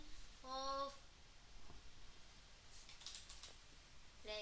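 Soft, faint keystrokes on a computer keyboard while HTML table code is typed, scattered light clicks across the clip with a few tonal beeps at the start and end.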